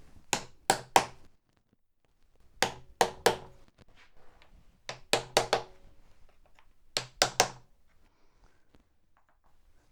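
Wooden wedges are hammered in to lock a board onto a planer sled: sharp, close knocks come in quick bursts of two or three, with short pauses between the groups and no talking.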